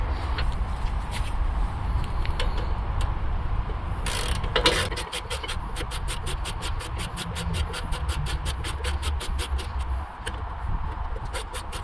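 Ratchet clicking steadily as a brake caliper bracket bolt is tightened on a 2006 Nissan Xterra during a rear brake job, a fast, close series of sharp ticks through most of the stretch, with a brief louder clatter near the middle.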